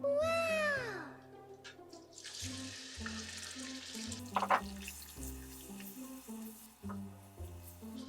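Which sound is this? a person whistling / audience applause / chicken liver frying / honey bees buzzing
chicken liver frying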